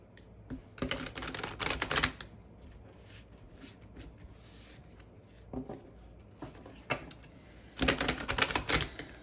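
Tarot cards are shuffled in several quick riffling bursts, crisp, close and faint, separated by quiet pauses with soft handling sounds between.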